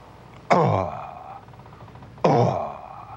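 Two fragments of humpback whale song, each a loud, sudden whoop that sweeps downward and fades, spaced about two seconds apart against a low, steady background.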